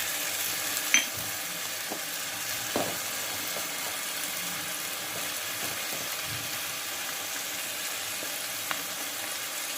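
Onion and garlic fry in oil for a mustard-based boal fish curry, giving a steady, close crackling sizzle with a few light stirring clicks and no talking.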